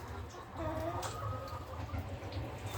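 A Denizli crossbreed chicken clucks softly and repeatedly up close, with low, steady farmyard murmuring underneath and no talk.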